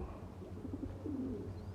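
Red Chinese-type pigeons in Punjab coo softly a few times, low rounded calls rising over a steady background hum, fairly faint with no one talking.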